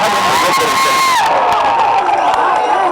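A large crowd cheers, whoops and shouts at a political rally for Makkal Needhi Maiam leader Kamal Haasan. The roar is loud, dense and continuous throughout.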